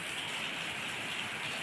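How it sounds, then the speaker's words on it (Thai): Steady rain pours down at a coal mine in Kaleum, southern Laos, a dense even hiss of drops hitting surfaces all around, moderately quiet and unbroken, with no voices. "ฝนตกแล้ว"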